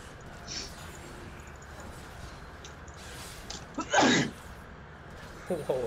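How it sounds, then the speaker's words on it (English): A single sharp sneeze bursts out partway through, close and fairly loud, over quiet League of Legends gameplay sounds. "A sneeze."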